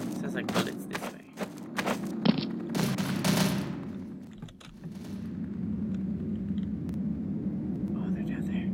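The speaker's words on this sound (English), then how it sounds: "Sounds like bullets this way." Gunfire rattles in Counter-Strike: Source, several bursts of shots in the first few seconds, fairly distant and muffled, then lighter sporadic pops, with quiet whispered talk and keyboard clicks underneath.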